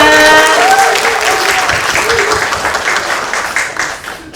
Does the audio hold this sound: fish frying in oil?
no